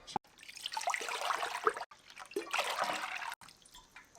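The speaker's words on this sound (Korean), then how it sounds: "뜨거운 물을 여기다가 부어주도록 하겠습니다" Hot water is poured from close by into a pickle jar of cucumbers held down by a press plate, giving an uneven splashing and gurgling stream broken by short pauses.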